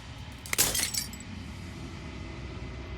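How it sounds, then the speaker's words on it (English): Glass shattering in the video game Slay the Princess, one sharp bright crash with a brief tinkling tail of fragments over a steady low ambient drone. "As the final fragment of glass shatters"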